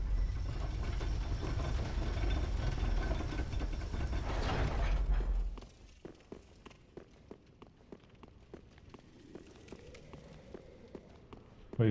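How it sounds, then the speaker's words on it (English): A Dark Souls 3 elevator starting its descent gives a loud continuous mechanical rumble for several seconds, then it drops to a quiet space filled with faint repeated clicks and footsteps, ending with a sudden thud. "Go ahead and take this elevator down."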